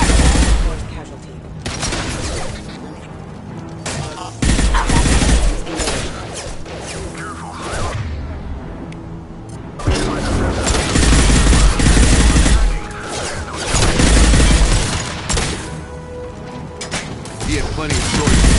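Heavy video game gunfire rattles in dense, loud bursts of automatic fire and crashes, rising and falling in waves, while a voice talks between and over the shooting.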